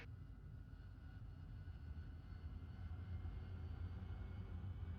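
AV-8B Harrier jet engine in the DCS flight simulator game, a steady low drone that holds evenly throughout, moderately quiet and with no voices.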